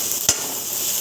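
Garlic dropped into hot cooking oil with butter, a steady bright sizzle throughout with one brief stir or splash partway in, loud and close, while braising pork ribs for a sauceless kaldereta.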